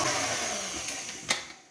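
An electric whisk runs steadily at a reduced speed while mixing a grandmother-style cake batter with milk being added, a continuous whirring hum close up with a brief clink near the end.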